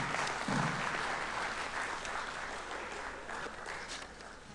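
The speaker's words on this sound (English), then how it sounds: "Round of applause, please." An audience at a spring commissioning ceremony claps steadily for several seconds, a dense wash of applause that holds at moderate loudness and slowly tapers.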